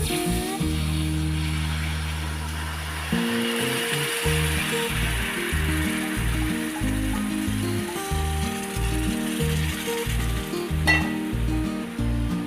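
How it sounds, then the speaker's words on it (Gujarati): Warm milk goes into moong dal halwa frying in a pan, and a steady sizzle carries on throughout. Loud background music with a prominent melody sits over the frying sound. "જે દૂધ ગરમ કર્યું હતું તે એડ કરી દઈશું, થોડુંક કરીને."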